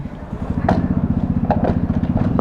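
A motorcycle engine idles close by with a steady, rapid low thumping pulse, the beat quickening slightly partway through, with faint background noise.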